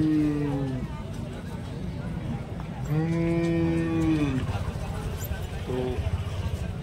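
Cows moo at the Depalpur cattle market, two long low calls and a short third one rising over steady crowd noise and hubbub.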